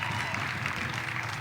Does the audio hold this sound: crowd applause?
yes